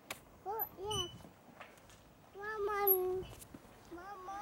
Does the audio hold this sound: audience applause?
no